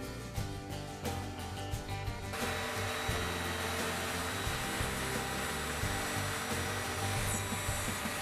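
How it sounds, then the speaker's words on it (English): A table saw whines steadily as it cuts a groove into a wooden knife handle, the sound growing louder and fuller after a couple of seconds and holding at a close, constant level. "With the table saw, I'll cut a groove on the handle to insert the blade."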